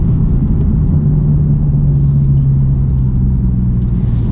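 A BMW M4 Competition coupé with a manual gearbox accelerates in third gear, its engine giving a steady, deep rumble under road noise, close and fairly loud throughout, with no voices.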